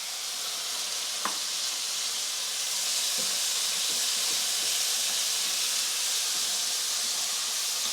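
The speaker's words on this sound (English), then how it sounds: "I'm now going to add into my onions my beans." Beans tipped into a pan of onions cooking over moderate heat, giving a continuous loud hiss and sizzle with a few light knocks and clatters, and no talking.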